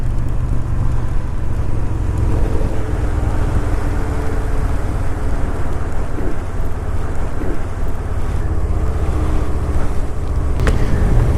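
Honda Shadow 750 motorcycle cruising at highway speed, a steady low engine drone buried under heavy, continuous wind rush across the microphone, with no talking.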